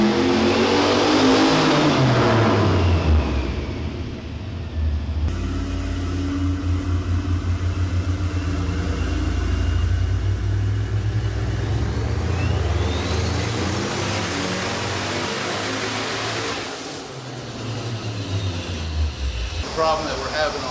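A turbocharged LS engine fitted with an HD7582 turbo revs on a dyno, a loud sustained engine roar that rises and falls across the pull, with voices heard over it.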